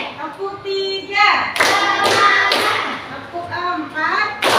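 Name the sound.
class clapping in an ice-breaking clap game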